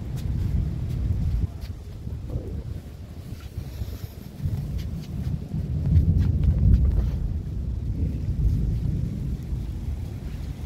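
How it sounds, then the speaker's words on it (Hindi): Heavy thunderstorm with rain and strong wind, a steady broad rush of downpour and gusts with low rumbling thunder swelling midway, close and loud with no talking. "एकदम मौसम चेंज हुआ है, बारिश भी शुरू हो गई है।"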